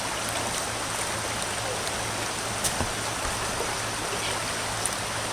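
Water of the Frankstown Branch of the Juniata River rushes past up close in a steady, unbroken wash, with a few faint ticks and splashes over a low rumble.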